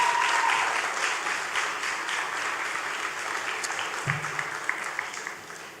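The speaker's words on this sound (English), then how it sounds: "give a round of applause to the parents and guardians" A graduation crowd at a school ceremony applauds parents and guardians, a broad wash of clapping that starts full and slowly thins out, with a brief low murmur partway through.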